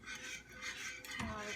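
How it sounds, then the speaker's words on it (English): Spoon scraping and clinking against a bowl while hot preserve dressing with herbs and olive oil is stirred, a steady close rubbing with a brighter knock near the end. "but you just have to keep stirring"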